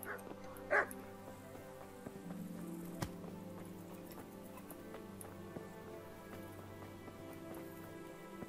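A dog in Kingdom Come: Deliverance gives one brief, faint bark early on, over quiet, steady game ambience.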